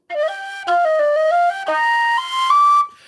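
A Circassian whistle flute (dytsifona, bzekamyl, syummek sybyzgy) plays a short run of clear, breathy notes, stepping between pitches in separate phrases, close and alone.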